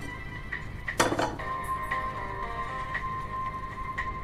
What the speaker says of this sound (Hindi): अब मैं गैस ऑन करूंगी और इस पे कढ़ाई रखूंगी अपनी।